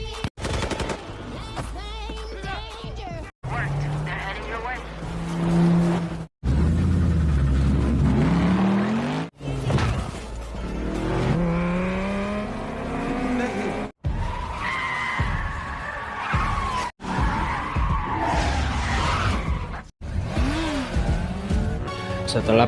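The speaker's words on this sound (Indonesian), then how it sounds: "Ho dan Mo akhirnya mencoba mengalihkan perhatian para pengawal dengan mencuri mobil mewah yang terparkir di teras itu" A stolen luxury car in The Old Guard 2 revs and skids with squealing tires, loud bursts broken by sharp cuts, mixed with gunfire and film score.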